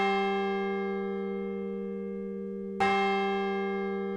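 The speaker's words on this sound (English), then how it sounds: "The bell invites me." A single church bell tolls once, loud and close: its long resonant ring decays slowly, and a fresh strike near the end brings a second clang that rings on without any voices.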